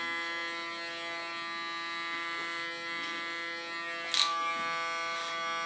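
An electric hair clipper set to a 2 millimeter guard cuts hair in a steady, close mechanical buzz that continues throughout, with a brief sharper burst near the end.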